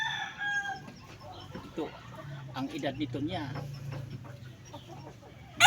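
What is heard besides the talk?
rooster clucking and crowing, Boston Sweater line gamecock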